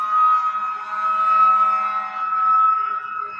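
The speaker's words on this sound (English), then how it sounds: "Sorry about the sirens." A steady wailing siren drones with a sustained tone, rising and falling slightly, somewhat distant and unaccompanied by voices.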